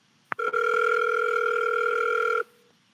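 A phone call rings out while waiting for someone to pick up: a sharp click, then one long steady electronic tone lasting about two seconds before cutting off, heard alone and up close.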